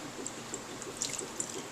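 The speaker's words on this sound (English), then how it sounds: "and pouring the broth" Chicken broth poured over chicken nuggets in a bowl, a brief soft trickle and splash with a few light liquid plinks, close and quiet.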